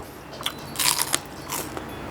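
Crunchy soured bamboo shoot from a northeastern Thai Isan soup is bitten and chewed up close, giving a few crisp crunches and crackles against faint background noise.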